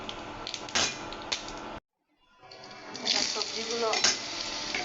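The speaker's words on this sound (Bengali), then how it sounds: "এখন বড়িগুলোকে লাল লাল করে ভাজি করে নেব।" Lentil dumplings (bori) fry in hot oil with a crackling sizzle that cuts out briefly, then returns and builds into a bright, busy spatter, close and moderately loud.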